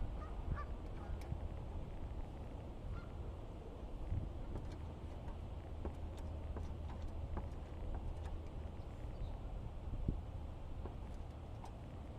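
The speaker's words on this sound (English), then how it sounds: "Now, how do I get all these geese that are chilling about?" Geese lounging outdoors on a hot day in Rockford, Illinois give scattered honks over steady wind noise, faint and somewhat distant.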